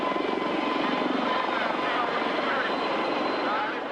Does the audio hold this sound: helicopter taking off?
yes